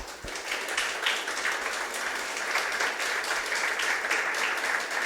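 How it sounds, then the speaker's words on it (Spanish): A church congregation at a Spanish-language service applauds, a steady wash of many hands clapping at moderate distance, fairly soft and continuous for several seconds. "Dele un fuerte aplauso"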